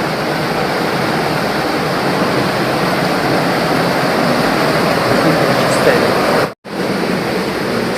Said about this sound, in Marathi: हा ओढा बघा